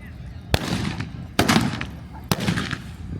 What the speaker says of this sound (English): I want to stress we are shooting a blank